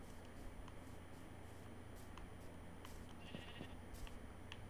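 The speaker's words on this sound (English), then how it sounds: "Where did the sheep go?" A sheep bleats faintly and briefly somewhere in the distance over a steady background hiss, with no voices.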